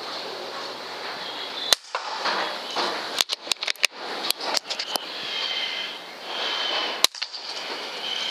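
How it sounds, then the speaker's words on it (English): Sharp, sudden shot cracks ring out over a steady outdoor hiss, several in quick succession near the middle and a couple more spaced apart, as a shot strikes tin and ricochets away near a pigeon. "This shot hits the tin and ricochets away from the pigeon"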